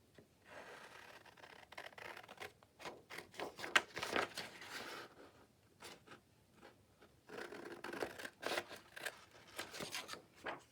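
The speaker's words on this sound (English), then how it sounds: "Let's just cut them out and see." Scissors cut out paper journaling tags in quiet, irregular runs of snips and rustling paper, close and faint with short pauses between bursts.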